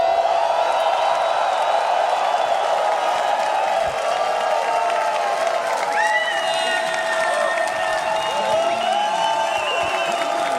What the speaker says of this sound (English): I want your whole stadium to roar for South America